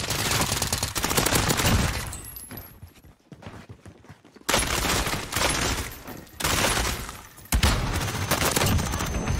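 Gunfire in a competitive shooter video game: loud bursts of rapid automatic fire in several bouts, broken by a brief quieter gap, dense and close with no talk.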